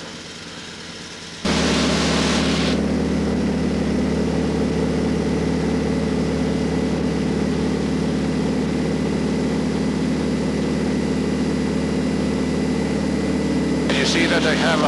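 A light aerobatic training aircraft's engine surges into a loud, steady roar after a quiet opening second as it departs on takeoff, holding at full power near and constant throughout.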